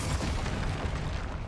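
The Bombarda blasting spell explodes in Hogwarts Legacy, giving one dense, loud, booming burst that fills the short moment with rumbling low-end energy and no talk over it.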